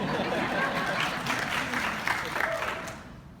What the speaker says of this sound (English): Yes, some claps at Pearland, all right?